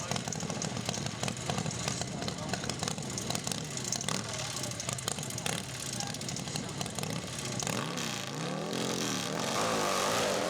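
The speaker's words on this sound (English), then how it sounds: "This is Mike Drennan, his Alcohol Harley." Alcohol-fuelled Harley drag motorcycle sits idling and revving at a drag strip, a loud steady engine rumble that holds throughout, rising in pitch with throttle blips near the end.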